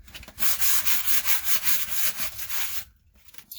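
Hand sanding a split seam on a car muffler with 240-grit sandpaper: close, loud back-and-forth rasping strokes in a quick even rhythm for about two and a half seconds, then stopping.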